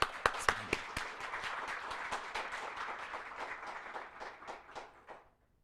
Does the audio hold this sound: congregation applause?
yes